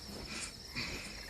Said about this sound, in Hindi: झिंगुर